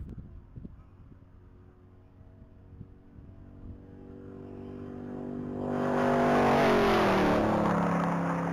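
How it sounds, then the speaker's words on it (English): A 2021 Factory 5 AC Cobra replica race car accelerates down a top-speed mile course, its engine rising from a distant low rumble into a louder, climbing roar as it approaches. "That's going to be a 2021 Factory 5 AC Cobra replica car."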